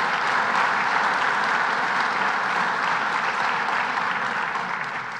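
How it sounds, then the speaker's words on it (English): Sustained audience applause at a building trades employers' association event, a dense, steady wash of many hands clapping from a sizable crowd, fading slightly near the end. "let's give them a round of applause"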